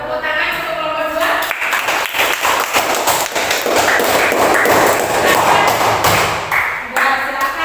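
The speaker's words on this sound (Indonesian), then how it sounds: "Tepuk tangan untuk kelompok 2." Classroom students clapping for a group after a sociology class discussion, a dense burst of applause lasting several seconds with some voices mixed in.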